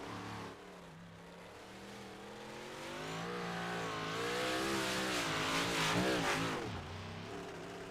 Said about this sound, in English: Ian Humphreys is out on the track in the 53 machine